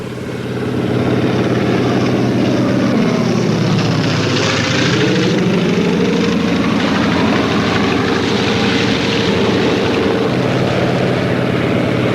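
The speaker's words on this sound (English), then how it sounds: "Among the planes Pokrishkin flew was an American Airacobra P-39." Engine of an American Bell P-39 Airacobra fighter plane, a loud, continuous droning roar that swells and shifts pitch as the aircraft passes, steady throughout with no voices.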